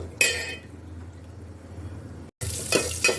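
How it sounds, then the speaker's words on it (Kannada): Cashews and raisins fry in ghee in two short bursts of crackling sizzle, each with a stir, separated by quieter low hiss and a brief silent gap. "ಇವಾಗ ನಾನು ಇದಕ್ಕೆ ತುಪ್ಪದಲ್ಲಿ ಗೋಡಂಬಿ ಮತ್ತು ದ್ರಾಕ್ಷಿನ ಫ್ರೈ ಮಾಡ್ಕೊತೀನಿ"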